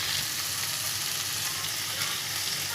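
Chicken pieces with garam masala fry in a pan for biryani, giving a continuous, even, close sizzle with a soft hiss and no voices.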